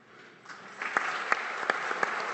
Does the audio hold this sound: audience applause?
yes